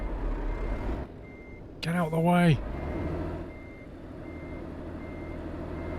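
A truck's reversing alarm beeps repeatedly in Euro Truck Simulator 2, faint and steady behind engine rumble, while a person briefly shouts over it.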